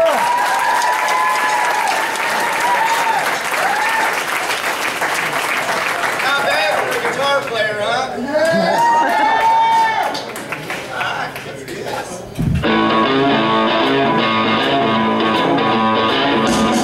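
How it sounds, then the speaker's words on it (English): Loud audience applause and cheering for Matt, a drummer, at a Rock Camp 2014 show, sustained clapping with shouts and whistles mixed with a voice over it, and dense clapping continuing to the end. "So yeah, a big another round of applause for Matt"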